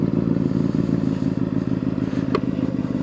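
A Honda motorcycle makes a slow U-turn during basic rider course practice. Its engine gives a steady, low, rumbling putter throughout, with one brief click partway through.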